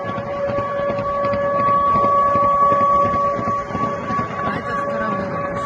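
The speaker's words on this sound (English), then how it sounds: "You can already hear the siren sounding." A steady, sustained air raid siren wail with constant tones carries on over a loud rumbling background at the port of Tuapse, with no pause across the stretch.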